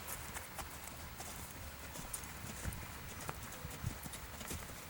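Steady hoofbeats of a quarter horse trotting on soft ground, a regular rhythmic clip-clop at moderate distance with faint background noise.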